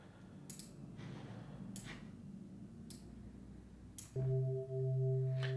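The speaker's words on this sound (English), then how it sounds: "And now we're starting to basically hand build our own square wave." Arturia CMI-V software synth sounding a hand-built square wave from stacked odd harmonics, a buzzy sustained tone starting abruptly after faint clicks over a low background hiss, loud and steady with one short dip.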